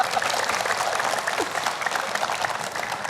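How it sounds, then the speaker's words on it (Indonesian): Steady, moderately loud applause from an audience of mothers and fathers at an Islamic religious gathering, a continuous patter of many hands with no talking over it. "tepuk tangan Ibu dan Bapak"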